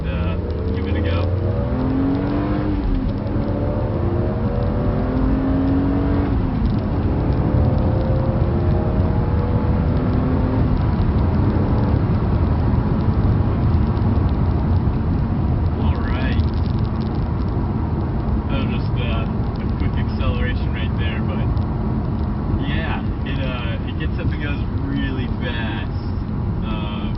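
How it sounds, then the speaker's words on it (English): A BMW Z4 M accelerates hard in second gear, its engine rising in pitch through a long sustained pull, loud and close inside the cabin with steady road and wind noise underneath. "So I'll put in second gear and give it a go."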